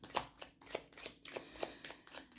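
The Rêves enchantés oracle deck is shuffled by hand, a close series of soft riffling card swishes in an uneven rhythm, with no talking over them.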